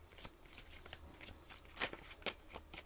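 Tarot cards being shuffled by hand, with a quick run of soft papery riffles and slaps that come close and fairly quiet, two sharper snaps standing out near the end, and a low steady hum underneath.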